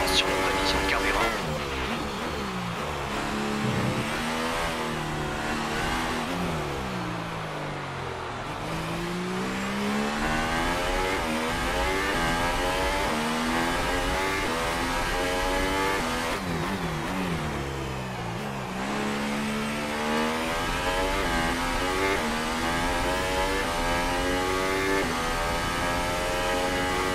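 An F1 race car engine in the F1 2018 video game on the Singapore circuit, revving high and shifting through gears in repeated rising and falling sweeps, loud and continuous throughout.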